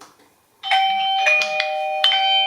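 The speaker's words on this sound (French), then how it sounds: "si j'appuie sur la sonnette, attends, hop, sur le bouton" A Eufy video doorbell chime rings out after a short quiet moment, bright tonal notes repeating a few times, close and clear with no talking.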